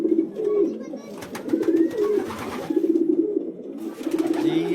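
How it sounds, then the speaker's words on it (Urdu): Several pigeons coo in a repeated, rolling rhythm, fairly close and clear, with soft rustling between the calls. "یہ کبوتر کی آواز ہے، کبوتروں کی آواز ہے، زیادہ کبوتر ہیں۔"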